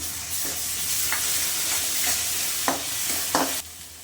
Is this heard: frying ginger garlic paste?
yes